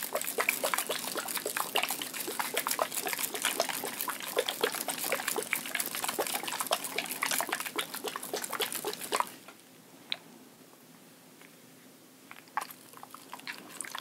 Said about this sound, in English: now you're going to shake it until the crystals are fully dissolved